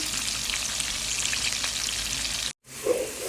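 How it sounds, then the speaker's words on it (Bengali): Fish frying in a pan sizzles and crackles loudly and close, continuous until a brief cut, then resumes with a soft clink. "এখানে আমি মাছ ভেজে নিচ্ছি"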